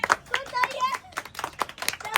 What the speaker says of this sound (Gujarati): ના શાબાશ તાળી.